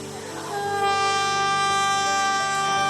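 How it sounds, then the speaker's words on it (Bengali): A train horn blows one long, loud, sustained tone as a train pulls out on a trip to Digha, swelling slightly and holding steady to the end. "তারপর একটু পরেই ট্রেন ছেড়ে দিল।"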